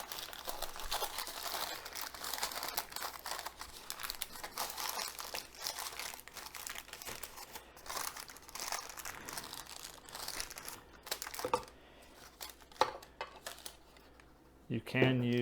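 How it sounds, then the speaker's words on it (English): Parchment paper crinkles and rustles in continuous soft bursts while a sourdough loaf is handled, close but fairly quiet, ending with a few sharper crackles. "I like to use parchment paper."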